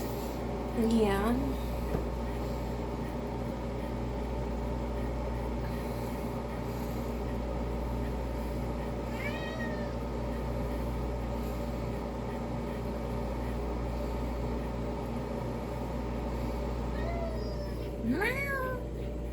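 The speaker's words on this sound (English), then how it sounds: "Meow." A few short, distinct cat meows stand out over a steady hum of background noise, spread apart with quiet between them.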